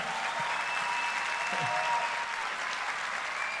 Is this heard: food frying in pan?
no